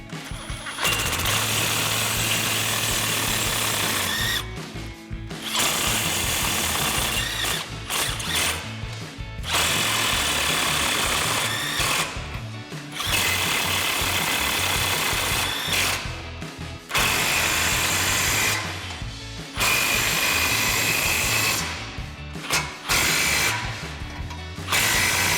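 A power tool with a 7/8 socket runs U-bolt nuts up on a four-wheel-drive Ford F-150 during a suspension lift install, in repeated whirring, ratcheting bursts separated by short pauses.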